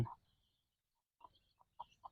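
A few chickens on a small Thai backyard farm with ducks give short, soft clucks, one near the start and then three or four scattered in a quiet stretch, close by but faint.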